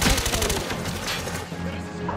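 Gunshots in a Wii video game burst loudly at the start, then settle into a rougher, quieter stretch of in-game noise.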